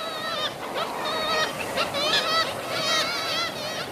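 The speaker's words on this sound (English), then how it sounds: "These graceful birds are so named because of their call." A noisy colony of black-legged kittiwakes calling over each other, with repeated nasal, wavering cries rising and falling continuously.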